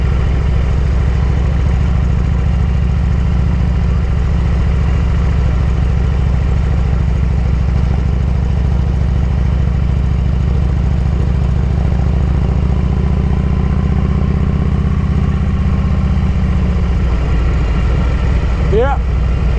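Steady low engine rumble and wind roar from a Harley-Davidson motorcycle riding along a scenic road, continuous and loud throughout, with a faint tonal whine near the end.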